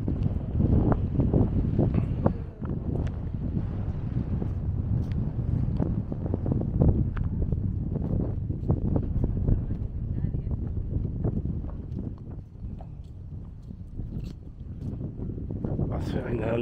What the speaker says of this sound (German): hier ist immer ein bisschen Wind